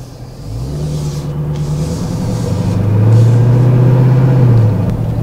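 A heavy truck engine rumbles close by, revving up and holding a higher pitch for a couple of seconds before easing off.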